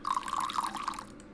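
Water poured into a tumbler in the game Zero Time Dilemma, a short liquid stream with dripping, gurgling tones lasting about a second before tapering off, heard alone.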